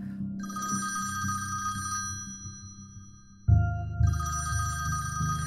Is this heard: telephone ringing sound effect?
yes